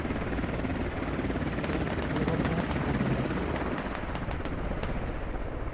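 A helicopter in the military shooter Squad thrums steadily and close, holding an even, constant rumble, while faint distant clicks and pops sound behind it.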